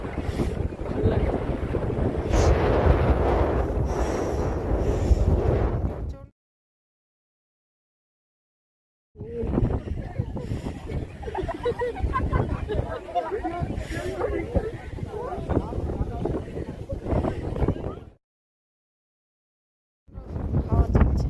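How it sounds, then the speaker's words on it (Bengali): Strong wind at Pangong Lake buffeting the microphone in long roaring gusts, close and loud, with choppy lapping water under it, cut by stretches of silence; people talk under the wind. "হাওয়া চলছে।"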